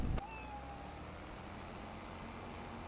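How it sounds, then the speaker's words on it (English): A cat in Farming Simulator 25 lets out a single clear meow that slides downward, following a sharp click, over a low steady rumble of farm machinery. "Heard a cat. Sounds like this property came with a cat."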